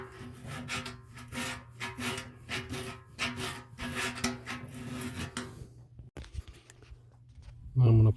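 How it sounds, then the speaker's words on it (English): Sandpaper rubs in quick repeated strokes over a patch area on a punctured tire sidewall, close and scratchy, before a pause and a brief heavy thump. "Gonna go ahead and sand this a little more."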